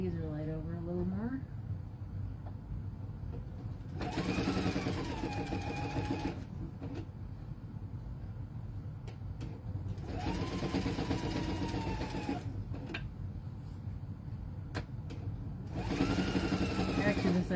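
A sewing machine fitted with a stitch-in-the-ditch foot hums through several stitching runs of a few seconds each, separated by pauses in which a person talks.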